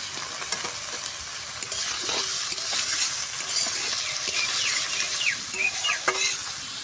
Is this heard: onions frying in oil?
yes